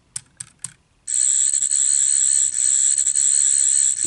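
Twelfth Doctor sonic screwdriver toy pressed twice: three quick clicks, then a loud sustained high electronic whine that warbles and glitches for about three seconds, close and alone.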